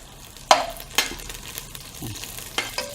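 Onions fry in a pan until brown, a soft sizzle broken by a few sharp scrapes and clatters of a stirring spoon.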